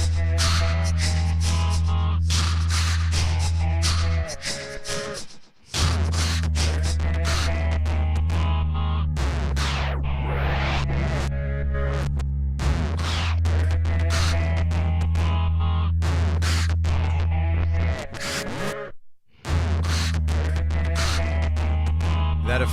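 Drum machine beat processed with a tape echo effect, a steady loud rhythmic pattern with deep sustained low tones and repeating hits, briefly dropping out twice.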